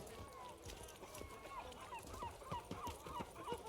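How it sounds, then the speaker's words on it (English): Seagulls in The Witcher 3 give a string of short, repeated cries at a modest distance over quiet ambient game sound. "I love the seagull sound."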